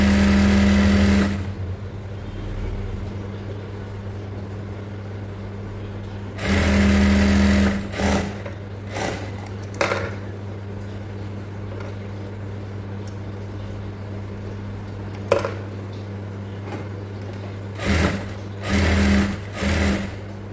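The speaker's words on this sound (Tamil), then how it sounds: "இந்த வளைவு பகுதியை வந்து கரெக்டாக நம்ம வச்சு தைக்கணும்." Sewing machine stitching the curved section of a palazzo pant, running in several short bursts and a few longer runs with quiet gaps between them, close and clear.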